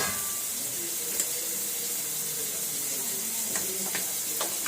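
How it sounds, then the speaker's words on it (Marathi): Prawns frying in hot oil in a home kitchen pan, a steady close hiss and sizzle with faint scraping of stirring throughout, no voices. "मस्त तेल सुटलेलं आहे त्याला आम्ही कोळंबी घेतो कोळंबी त्याच्यामध्ये टाकायची आहे"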